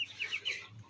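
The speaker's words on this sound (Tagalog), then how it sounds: "Dito naman sa ating 4 na sisiw." Eight-day-old chicks chirping in a short burst of high, thin peeps, several quick calls in a row heard close and fairly faint with no talk.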